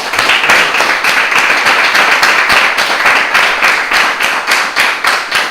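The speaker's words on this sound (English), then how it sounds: "let's give our hard-working ministers another round of applause" An audience claps for a group of ministers at a religious gathering, a dense, steady round of applause that holds loud and close throughout.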